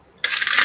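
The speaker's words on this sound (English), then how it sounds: "Josh, you're playing with your sinkers" Lead fishing sinkers rattled and clinking together in a hand, a sudden close burst of bright metallic jingling that continues steadily for about half a second.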